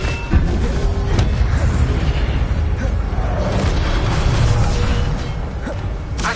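A fire spell cast in the Hogwarts Legacy video game gives a dense, roaring burst with booming, whooshing blasts that stay loud and steady throughout.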